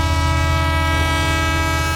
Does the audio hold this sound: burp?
no